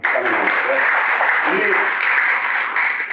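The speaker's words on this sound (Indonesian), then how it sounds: "Tepuk tangan dulu, ya." Congregation applause after a Good Friday sermon in a church, a continuous wash of clapping from many hands, steady and fairly loud throughout.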